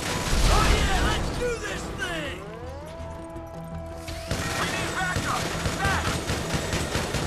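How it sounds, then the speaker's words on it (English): Sustained rapid minigun fire from Grand Theft Auto V, a dense loud mechanical roar with crashing impacts, broken by a brief pause with a whining spin tone before the firing resumes; a voice is heard over it. "Minigun is awesome!"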